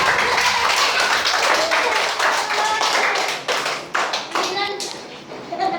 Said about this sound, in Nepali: सबैले ताली हान्दै त